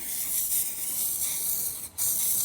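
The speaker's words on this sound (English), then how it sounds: "just spray it around the edge" Aerosol can sprays gloss black paint around the edge of a race truck panel, a close, continuous hiss with a brief break near the end before resuming.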